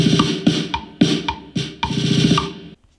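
An orchestral loop built in GarageBand on iPad or iPhone, with loud sustained strings and accented hits returning in a steady rhythm before the sound cuts off abruptly.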